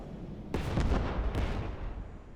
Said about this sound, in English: And another salvo is inbound.